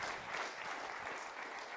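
Audience at a water-planning panel event applauding steadily for a couple of seconds, a soft, even wash of clapping heard from a distance.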